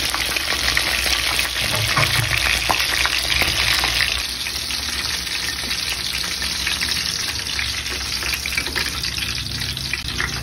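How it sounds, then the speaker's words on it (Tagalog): Chicken breast deep fries in a pan of oil, giving a loud, dense, continuous crackling sizzle close by, which eases a little partway through, with no talking. "damihan mo tol ang mga langis. Nang sa ganon, naka-deep fry ang ating chicken breast."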